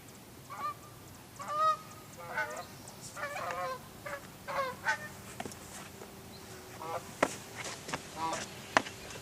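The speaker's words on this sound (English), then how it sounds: "There go the geese." Geese honk repeatedly in scattered bursts, fairly close, with some faint talk and a few sharp knocks mixed in.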